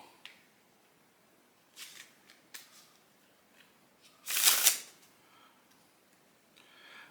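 In a quiet room, a few soft taps and rustles come before one brief, crisp riffle of a deck of playing cards being shuffled.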